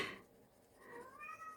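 A pet cat named Spooky meows twice indoors, a short cry at the start and a longer, rising meow after a brief pause, both close and clear with no talking.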